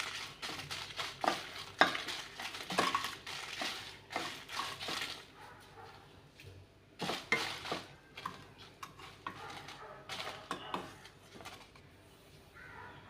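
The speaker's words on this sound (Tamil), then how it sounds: "நம்ம காயத்தையும் வத்தலையும் வறுத்து எடுத்துக்கலாம்" Asafoetida and dried red chillies fry in oil in a pan as they are stirred for spicy idli podi. Intermittent scraping strokes run over a soft sizzle, with a brief lull midway before the stirring resumes.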